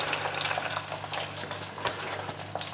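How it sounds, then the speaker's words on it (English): Spicy crumb-coated chicken fillets frying in a deep fryer, a steady close crackle and hiss of oil bubbling with a low hum underneath. "Get them into the fryer."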